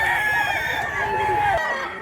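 At a chicken market in Cebu, a rooster crows nearby in a long drawn-out call, with other chickens clucking in the busy background.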